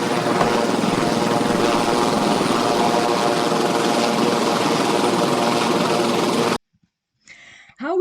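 Loud, steady helicopter rotor and engine noise up close, continuous for several seconds before cutting off abruptly into near silence with a faint voice.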